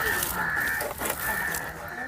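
Backyard chickens at a village home near a fish pond cluck and a rooster crows nearby, the calls rising over steady outdoor background noise in a short burst.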